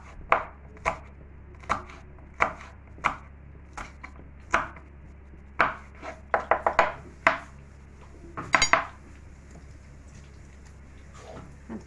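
A knife chops green peppers on a board, sharp irregular thuds close by, sometimes single, sometimes in quick bursts, over a quiet background hum.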